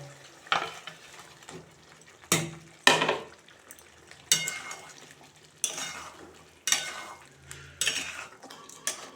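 A spoon knocks and scrapes against a pan in repeated bursts of several sharp clinks, while eggs go into a simmering egg curry with a faint sizzle underneath.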